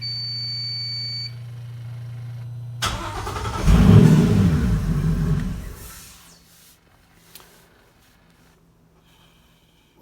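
An Indmar Raptor 400 inboard engine in a Tige Z3 boat cranks and briefly fires with a loud rumbling burst that fades after a few seconds, followed by quiet with faint clicks and a tonal beep.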